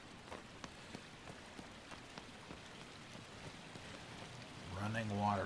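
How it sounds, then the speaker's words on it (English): Water runs in a soft, continuous rush in Shadow of the Colossus, close to falling rain, and a louder tonal sound swells in near the end. "Running water."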